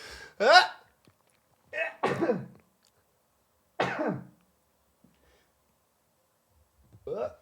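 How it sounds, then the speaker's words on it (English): Several sharp, explosive bursts spaced a couple of seconds apart, close and fairly loud, like someone sneezing or coughing repeatedly with quiet gaps between. "I'm going to sneeze."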